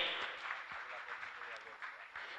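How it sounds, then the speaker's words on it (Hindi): Audience applause at a Jain religious discourse and question session, a steady dense wash of clapping that holds at an even level throughout, with a voice faintly audible underneath. "जोरदार ताली बजाकर इनका सम्मान करें"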